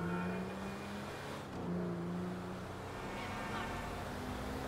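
Vehicles drive in Grand Theft Auto V, a low steady engine rumble with passing car sounds, faint and continuous throughout, with no talk over it.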